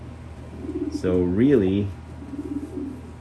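A pigeon coos once in a breeding loft, a single rolling call close to the microphone, with someone speaking briefly before and after over faint background noise.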